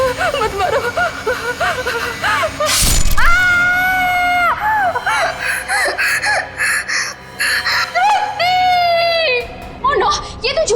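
A woman screams in a crime-drama scene: loud, high, wavering cries repeated in bursts, with a sharp crash early on and some gasping between screams.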